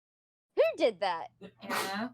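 A short, sharp sneeze bursts out at the end of a voice-chat tabletop role-playing session, right after a person's quick spoken question.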